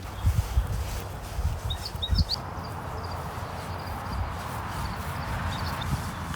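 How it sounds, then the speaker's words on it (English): Faint birds chirp in short bursts over a steady outdoor rumble and soft footsteps in a garden. "I don't know if you can hear all the birds chirping."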